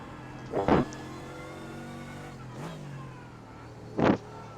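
Porsche GT3 race car engine in the iRacing sim at Road Atlanta, droning steadily with three short revving surges over a low hum.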